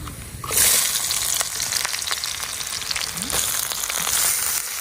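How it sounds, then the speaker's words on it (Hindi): Sliced onions and chillies fry in a pan over an outdoor fire in the jungle, making a loud, continuous close sizzle that swells as they hit the hot oil, with faint stirring and background noise. "प्याज मिर्चा भी डाल रहे हैं।"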